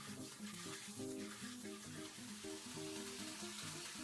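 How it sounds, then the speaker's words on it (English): Water pours steadily into a wooden handai sushi rice tub, a soft continuous splash and trickle heard alone at low level. "Pour water into handai."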